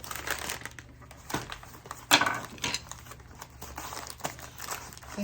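Paper wrapping around a potted orchid crinkles and rustles up close in quiet bursts, with a sharper crackle midway.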